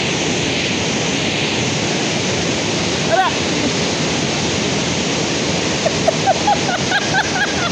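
Putudi waterfall near Phulbani, rushing water roaring as a constant loud wash, with a brief knock partway through and faint bird chirps near the end.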